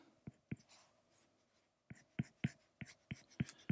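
Pencil inking a Viking character drawing on paper at a desk, heard as a series of close, faint scratchy strokes and taps coming in irregular bursts, with a quiet pause in the middle and no talk.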